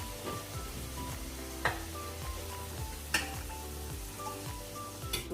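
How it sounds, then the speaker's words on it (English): Potato pieces frying in hot oil in a frying pan give a steady, crackling sizzle throughout, with occasional sharper pops and clinks rising above it, at moderate distance and with no voices. "So now what I'm gonna do is I'm going to fry my potatoes"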